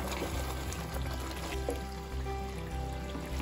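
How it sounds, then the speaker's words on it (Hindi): Water poured from a small spoon into browning mutton stew with cardamom powder, a steady close pour over a faint sizzle and kitchen hum. "अब हम पानी डालेंगे इसमें, बस 1 टेबल स्पून डालेंगे, ज्यादा नहीं डालेंगे।"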